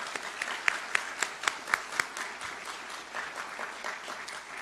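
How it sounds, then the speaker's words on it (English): A graduation ceremony audience applauds, with a spread of clapping heard from a distance at moderate loudness and a few sharper individual claps standing out near the start. "Give her a round of applause as well."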